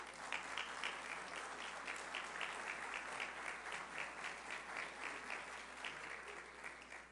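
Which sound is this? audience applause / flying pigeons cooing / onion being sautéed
audience applause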